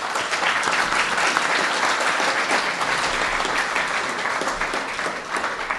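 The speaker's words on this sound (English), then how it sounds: "Can you give our panel a round of applause?" An audience applauds a discussion panel at a debate on going green, a steady, full round of clapping from many hands that holds evenly throughout without talk.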